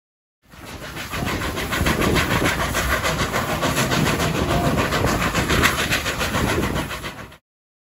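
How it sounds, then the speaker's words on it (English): A train rolls through on New Zealand's abandoned Dunback line, a loud rumbling and rhythmic clatter that fades in, holds steady for several seconds, then cuts off; no talk. "Our train is due to arrive at Dunback at 8:50 a.m"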